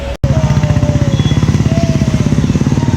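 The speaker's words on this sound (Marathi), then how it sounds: "अशी फडफड येते माझ्या बाईक" A motorcycle engine idles close by, loud and continuous, with a fast uneven pulsing putter that sputters and flutters steadily throughout, briefly cutting out at the very start.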